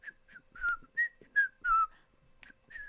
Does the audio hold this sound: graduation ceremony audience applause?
no